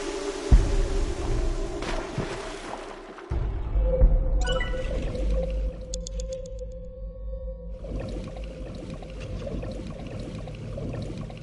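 A video game character plunges into water, a sharp splash followed by muffled, bubbling underwater ambience with a low hum and sparse watery plinks, with no talk over it.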